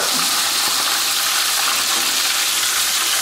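Steady loud hiss and crackle of small calamari frying in hot oil, continuous and close with no pauses.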